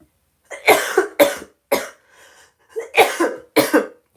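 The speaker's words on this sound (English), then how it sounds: "Sorry about my coughing." A person coughs repeatedly and close by, several harsh bursts in quick succession with a short pause midway, then more coughs.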